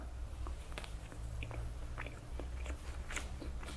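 Crisp crunching bites and chewing of a homemade waffle topped with 24k gold leaf, buttery and straw-dry in texture, heard as repeated close-up crackles over a steady low background.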